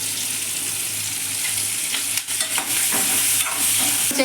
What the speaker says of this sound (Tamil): ஒரு தக்காளி, ஒரு 5-6 மிளகா, பச்சை மிளகா இதை போட்டு நல்லா வதக்கிடலாம்.